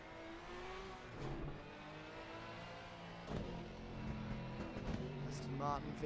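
Porsche GT3 race car engine in the Assetto Corsa Competizione racing game at the Hungaroring, revving hard and shifting with other cars whirring past, under a commentator talking excitedly.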